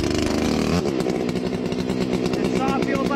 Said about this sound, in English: Now that I'm a little closer to the ground, I'm gonna use a smaller saw because I really don't want to dull this chain.